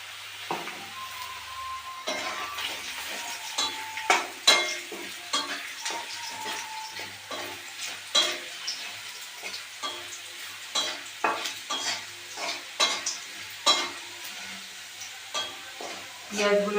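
Onions and ground spice paste with salt and turmeric fry in a pan for a Bengali ghugni, with a steady sizzle broken by repeated scraping stirs at an uneven rhythm, close and moderately loud with no talking.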